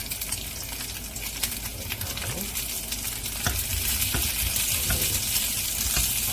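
Butter-grilled corn frying in a pan, a continuous bright sizzle and crackle with scattered pops and occasional stirring scrapes, close and steady throughout.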